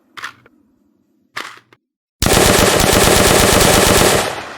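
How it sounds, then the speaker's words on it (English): A weapon reload in an Unreal Engine Nazi zombies video game gives two short mechanical clicks, then a loud sustained burst of rapid automatic gunfire that lasts about two seconds before cutting off. "We have our reload."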